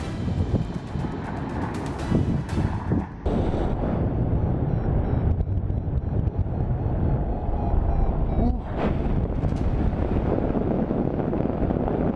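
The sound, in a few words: gust of wind hitting a sailboat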